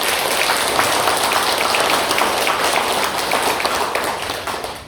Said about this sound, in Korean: 박수 한번 보내줘요.